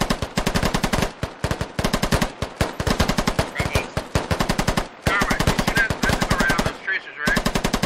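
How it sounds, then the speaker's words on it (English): Rapid bursts of machine gun fire from the military shooter game Squad rattle close and loud in long rhythmic strings with brief pauses between bursts, and a voice sounds faintly beneath the shooting. "I want your guns firing."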